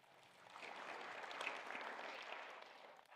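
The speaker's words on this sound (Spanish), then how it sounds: "denle un gran aplauso" An audience at a talk bursts into brief applause, a soft, distant patter of clapping that swells and fades over a few seconds.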